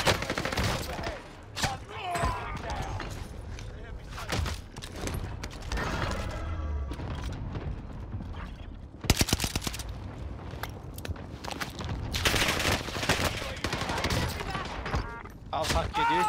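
Rapid gunfire bursts in Call of Duty Warzone, a Type 100 submachine gun in the mix, crack among layered game sounds and music, with loud clusters of shots and a player talking throughout.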